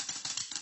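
Quick, uneven drum taps in pairs, a brief run of light strokes with a rattly, bright snare tone.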